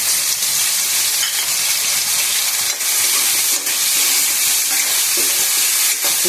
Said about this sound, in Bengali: আদা বাটা টমেটো কাঁচা লঙ্কা আর অল্প একটু ধনে পাতা এই যে মশলাটা দিয়ে দিলাম এর মধ্যে